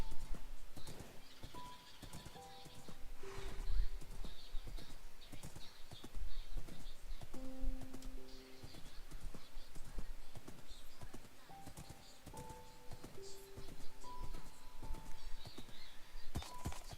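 Hooves clip-clop steadily from a horse in Minecraft, a blocky game world, with faint game tones and occasional bird chirps in the background and no talking.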